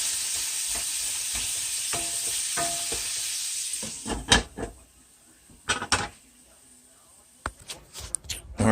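Flounder fillets fry in a hot pan with a steady, bright sizzle for several seconds, then the sizzle fades and a few clattering knocks and utensil scrapes follow.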